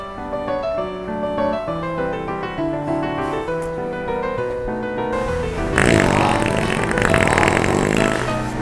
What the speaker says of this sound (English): we're hooking it up to an app on the phone with realistic fart sounds